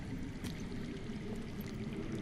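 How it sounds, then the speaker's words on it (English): Underground water flows steadily in a Game of Thrones Telltale video game scene, a continuous low rushing wash with a faint trickling texture, moderately quiet and unbroken, with no talking over it. "I hear water. From underground."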